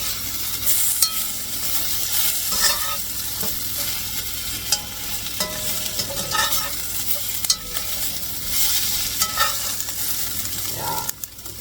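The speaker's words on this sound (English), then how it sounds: "These fry up really quickly. How crispy they're getting." Food fries until crispy in a pan with a constant, crackling sizzle and frequent clicks and scrapes of a utensil turning the pieces, steady and close throughout.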